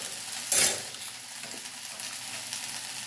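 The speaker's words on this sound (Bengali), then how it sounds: "এই যে এখন হচ্ছে ভেন্ডি ভাজা হচ্ছে" Okra sizzling in a hot pan, a continuous close frying hiss with a brief louder burst of spattering early on and faint stirring scrapes underneath.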